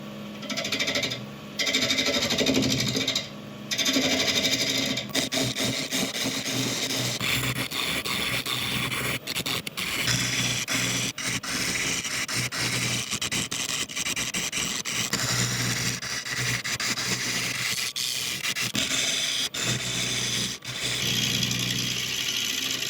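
Woodturning on a lathe, hollowing out a deep laburnum wood vase: a continuous motor drone with scraping, chattering tool noise, steady throughout apart from a few brief dips and pauses near the start.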